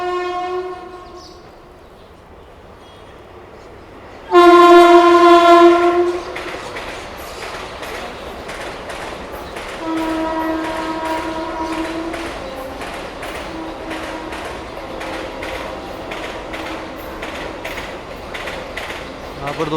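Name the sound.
Tripura Sundari Express train arriving at station, horn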